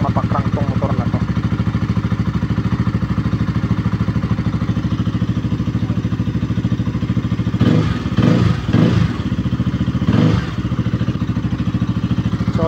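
A KTM Duke 200 motorcycle engine runs steadily at idle after being started with a borrowed battery, a dense low rumble with rhythmic ticking, while a few brief voices break in near the end.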